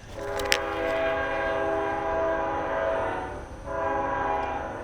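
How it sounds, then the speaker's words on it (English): A train's horn blares in one long, steady, harmonic blast from a distance in a backyard at night, dipping briefly before sounding again, over a low rumble of rail noise. "now that the train has stopped blowing its horn"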